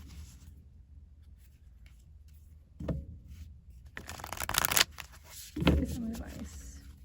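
Work Your Light oracle cards shuffled by hand at close range, with soft scattered rubbing before bursts of riffling and slapping cards midway and near the end.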